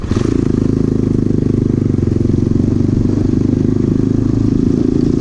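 A motocross motorcycle runs along a road in Gandus, Palembang, its engine a steady, loud, close rattling drone that holds evenly throughout, with no talk.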